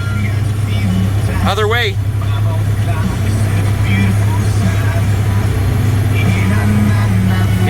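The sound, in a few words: skid steer engine running while driving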